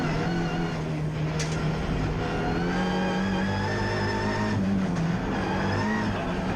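Race cars at Oulton Park during a Britcar Trophy race, with a Ford Fiesta pushing hard on an Alfa, roar continuously in loud, sustained engine tones with shifting pitch as they pass.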